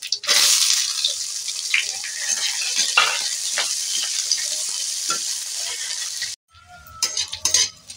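Chopped onion dropped into hot oil while making a kidney bean (rajma) curry, giving a loud, steady sizzle with occasional stirring scrapes for about six seconds before it cuts off, followed by a few brief kitchen clatters.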